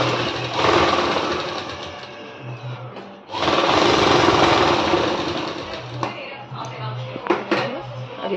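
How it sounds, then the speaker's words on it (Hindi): A sewing machine stitches a blouse made from an old sari border, running in two loud rapid mechanical bursts separated by a short pause, with some quieter clicks afterward and a voice talking alongside. "इसे पलट के नीचे की तरफ ले जाएंगे और इस पे सिलाई लगा लेंगे।"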